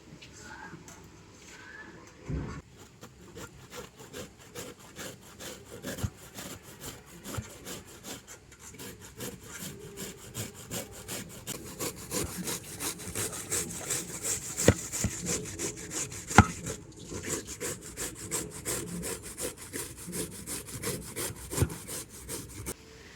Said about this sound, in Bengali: আর এই গ্রেটার দিয়ে আমগুলোকে গ্রেট করে নেব